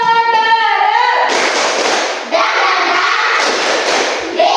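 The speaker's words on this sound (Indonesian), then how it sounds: "Oke, tepuk semangat bareng." A classroom of students claps together in a spirit-clapping routine: loud, dense bursts of many hands clapping in unison follow a brief sung or called-out tone at the start.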